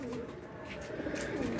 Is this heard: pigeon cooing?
yes